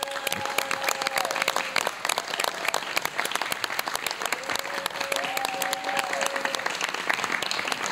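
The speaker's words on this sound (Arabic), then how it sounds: "تصفيقة كبيرة على الممثلة نادرة لملوم" A studio audience at a New Year's variety show gives sustained, steady applause for actress Nadra Lamloum, dense clapping continuing evenly throughout.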